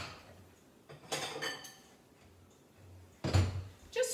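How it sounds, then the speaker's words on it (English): A bowl taken out in a home kitchen, faint, with a couple of clattering clinks of dishes and a cupboard or drawer knock heard in short separate bursts against quiet room sound. "I'm going to grab a bowl"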